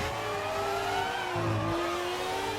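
A race car engine revs and whines at a track in Spain with rising and falling pitch, steady and fairly close, no voices.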